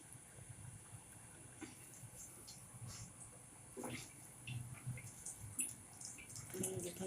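Water drips and trickles from boiled papaya being squeezed in a thin cotton cloth, with faint irregular splashes and patters. Quiet speech can be heard in the background.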